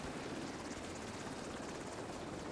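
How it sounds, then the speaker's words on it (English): A helicopter in the video game Division 2 gives off a steady, dense rotor and engine roar that holds at an even level throughout, with no voices over it. "Oh, that's a chopper."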